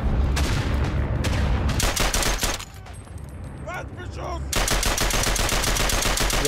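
Bursts of gunfire from a WW1 video game, repeated rapid shots crackling loudly in clusters, with a quieter lull in the middle before heavy firing resumes.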